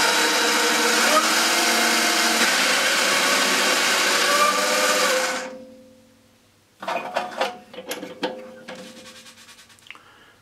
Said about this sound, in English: I'm going to turn it on and jam a screwdriver in there